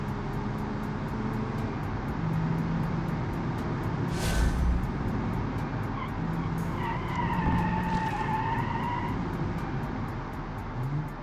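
A small turbocharged four-cylinder sedan drives hard in BeamNG.Drive, a steady engine drone with tires skidding and squealing throughout. A brief sharp burst comes near the middle, and rising whines follow later.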